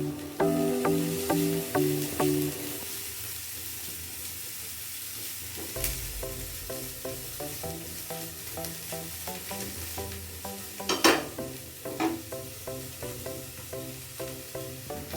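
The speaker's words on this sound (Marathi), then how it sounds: "बारीक चिरून घेतलेला आहे कांदा. आणि आपल्याला जास्त फ्राय करायचं नाहीये." Finely chopped onion sizzles and fries in a pan, with a steady crackling hiss under repeated scraping strokes of a spoon stirring it, close and fairly loud.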